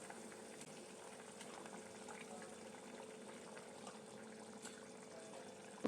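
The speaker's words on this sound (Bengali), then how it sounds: "ঝোলটা ফুটে গেছে" Fish curry broth for a Bengali pabda jhol bubbling in a pot, a steady soft simmering hiss with faint bursts of bubbles throughout, no voices.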